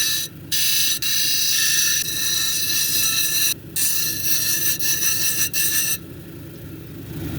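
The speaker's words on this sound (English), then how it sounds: "We're going to do a girdle and then run it across the grits." Wonderstone cabochon held against a grit wheel while its girdle is ground, a steady loud abrasive whir broken by several brief gaps as the stone is lifted and repositioned.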